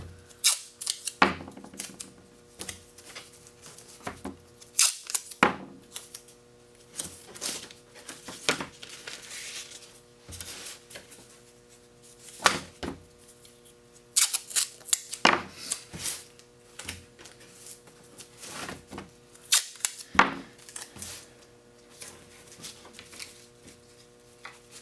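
Scissors trimming excess material from a wood-bending setup for acoustic guitar sides, then tape being pulled and pressed down: sharp irregular snips, rips and clicks close by in a quiet room, with pauses between.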